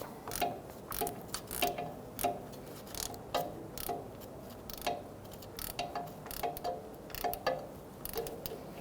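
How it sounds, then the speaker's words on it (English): A ratchet with a 13mm socket tightens a starter bolt on a 2000-2007 Ford Taurus 3.0L V6, giving a steady series of close, crisp pawl clicks in quick back-and-forth strokes, with no talk. "just do make it tight and then go a quarter of a turn using a 13mm socket"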